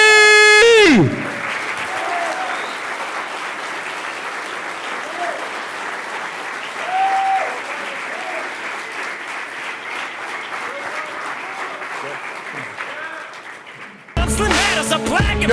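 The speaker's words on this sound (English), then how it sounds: "Make some noise for Chappy!" Sustained applause from a large crowd, loud and steady for over ten seconds, with a few scattered cheers, cutting off abruptly before a burst of music.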